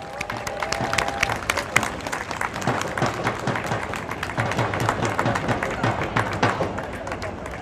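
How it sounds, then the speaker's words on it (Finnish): An audience at the FIXIT event applauds as speaker Jorma Grönlund comes up, scattered but steady hand claps with sharp individual claps standing out, a brief tone at the start and murmuring voices beneath. "Aplodit Jormalle."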